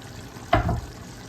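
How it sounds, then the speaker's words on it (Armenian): Green beans drop into simmering tomato sauce in a pan, setting off a single short burst of sizzling that fades within about a quarter second, then a quiet bubbling background. "Կավելացնենք լոբին։"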